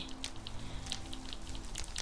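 Rain falls in Minecraft as a soft, continuous patter, with scattered sharper drop ticks over a faint steady hiss, and nobody speaking.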